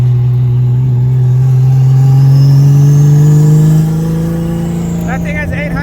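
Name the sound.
Toyota JZX100 engine revving while drifting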